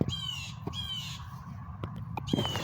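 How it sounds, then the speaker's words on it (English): Several crows caw in repeated harsh calls, a few of them overlapping, over a low outdoor background with a few sharp knocks in between. "these birds won't shut up."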